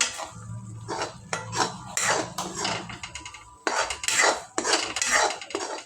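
Cardamom sweet mixture, thick and nearly set, stirred and scraped in a pan with a metal spoon: repeated close clinks and scrapes in an irregular rhythm, with a short pause partway through and no talking.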